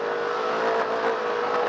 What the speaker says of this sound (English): sounds like that engine is working hard